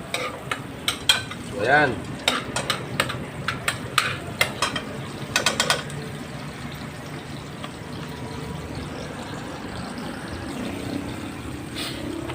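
Garlic and chili being stirred in a frying pan, a spoon scraping and clicking against the metal in quick bursts over a soft steady sizzle, with a brief voice near the start.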